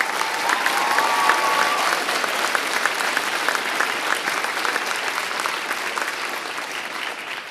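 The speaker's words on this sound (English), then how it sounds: "a big round of applause for Hampton's new firefighters" An audience at a firefighter graduation ceremony gives a loud, sustained round of applause for the new firefighters. The clapping is steady and fills the room, then eases slightly toward the end.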